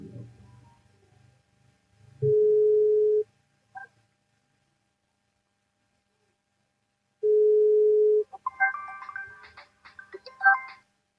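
Two long steady telephone tones, separated by silence, are followed by a quick run of dialing beeps, with faint voices at the start.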